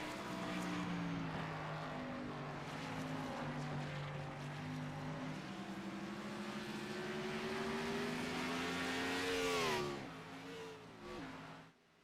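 Race cars at Watkins Glen in a racing video game, engines droning and rising in pitch as they accelerate, then cutting off sharply near the end, with no voices.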